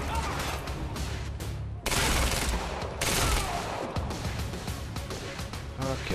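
Rapid bursts of video game gunfire from Quantum Break fill the scene, loud, dense volleys with sharp cutoffs and impacts, firing almost continuously across a few seconds.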